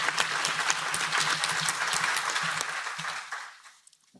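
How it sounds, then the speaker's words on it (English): Audience applause at a conference session breaks out as a dense burst of clapping, holding steady and then thinning and fading out near the end, with no talking. "I've been told if we give a round of applause,"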